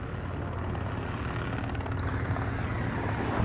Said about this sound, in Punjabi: ਹੈਲੀਕਾਪਟਰ ਗੁਜ਼ਰਨੇ ਨੇ